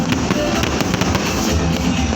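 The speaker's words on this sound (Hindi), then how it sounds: "गजब की आतिशबाजी है" New Year fireworks over Galle Face in Colombo, Sri Lanka, celebrating 2024: a dense, continuous barrage of loud booms and crackling bursts overlapping one another, with faint crowd voices underneath.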